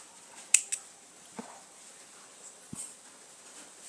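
Scissors snipping crochet yarn, a couple of quick sharp close clicks followed by a few fainter small handling taps in a quiet room.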